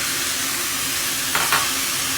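Garlic and pepper sizzle in a hot pan with a loud, steady frying hiss, briefly disturbed by a couple of stirring scrapes near the end.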